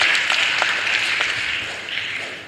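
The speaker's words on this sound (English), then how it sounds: "So I would like you to really give another clap to the presenters for good topics." An audience at an accountants' association general meeting applauds the presenters, dense clapping that stays loud and then slowly fades toward the end, with no talking.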